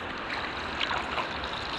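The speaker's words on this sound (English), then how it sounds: "You can hear that water." Rushing river water at the last bend of a rapid, with steady broadband noise that stays fairly even throughout and holds no voices.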